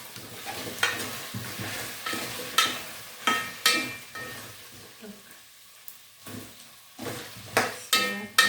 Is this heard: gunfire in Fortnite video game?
no